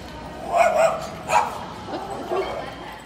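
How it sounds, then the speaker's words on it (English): A dog barks repeatedly in short yapping bursts, recorded at moderate distance outdoors near a store, with faint voices and background noise underneath. "her dog continued to bark at us. I actually recorded it."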